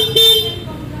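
Horn of a Honda Click 125i scooter gives one short steady toot, close and fairly loud, over faint background noise.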